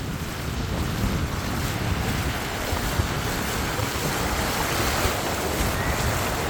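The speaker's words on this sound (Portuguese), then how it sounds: "Lá atrás dá umas ondas mais fortes." Sea waves wash continuously onto a calm beach in Indonesia, with heavier surf farther out, forming a steady broad roar mixed with strong wind rumble on the microphone and no voices.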